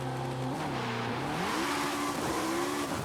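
Ariel Atom V8 500 in Forza Horizon 5 launching hard from a standstill, its naturally aspirated V8 revving loud and close with rising, shifting engine tones and no talking over it.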